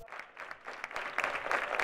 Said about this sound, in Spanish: Fueron 30 intensos minutos de risas y aplausos que supieron a gloria.